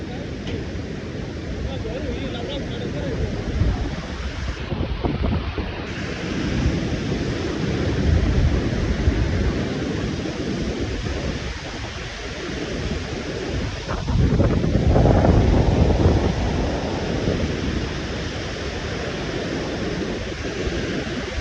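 Rushing water of a fast-flowing mountain river roars steadily throughout near Manikaran, loud and broad, with wind buffeting the microphone and surging louder in places.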